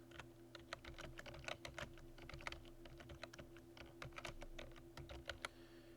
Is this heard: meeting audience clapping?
no